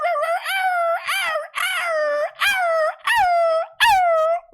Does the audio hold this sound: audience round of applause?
no